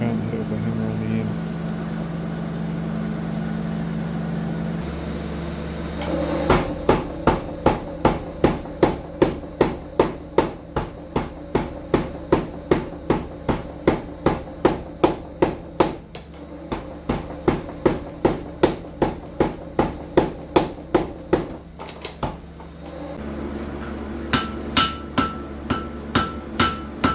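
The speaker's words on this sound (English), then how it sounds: "I didn't have any thin bar, so to draw some out. Sorry for the excessive hammering." A blacksmith hammers hot iron on an anvil to draw out a thin bar for forging nails the old way: dozens of loud, close, ringing blows in a fast steady rhythm, with brief pauses between runs and a low hum under them.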